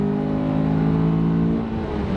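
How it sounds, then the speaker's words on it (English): A car engine revs steadily while driving, a loud sustained hum with a smooth rising and falling pitch, alone for a couple of seconds. "Listen to that engine."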